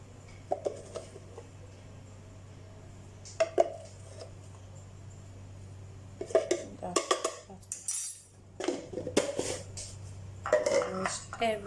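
A spoon clinks and scrapes in a bowl as a turmeric powder face mask is mixed, in irregular bursts of tapping over a steady low hum.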